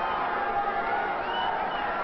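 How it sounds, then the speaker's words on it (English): Tennis crowd cheering at the 2013 Chennai Open doubles final, a steady, dense wash of crowd noise holding at an even level throughout with no clear peaks. "Getting the crowd all worked up here."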